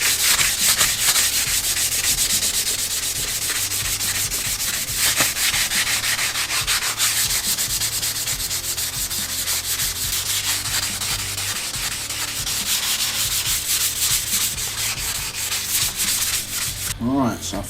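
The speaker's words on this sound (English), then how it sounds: "I'm just using a fine sanding block. I'm just going to key the surface now." Fine sanding block rubbing steadily across the body of a Squier by Fender Mustang guitar to key the finish, a continuous close scratchy rasp with back-and-forth strokes, no talking.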